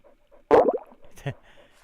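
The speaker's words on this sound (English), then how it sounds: "That fart's still like super loud." Fart sound effect from a 2D underwater-creature video game: one loud, abrupt burst followed by a shorter, fainter blurt, alone against near silence.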